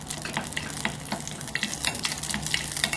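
Chili peppers frying in cooking oil in a pot for braised pork ribs, a steady close crackling sizzle with scattered pops and stirring, no talk.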